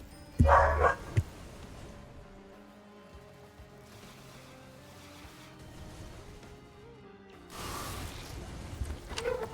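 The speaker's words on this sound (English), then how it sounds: "Okay, I think they stopped barking" Dogs barking in a burst of loud yaps near the start, then a quieter stretch of indistinct room sound, with another noisy surge late in the clip.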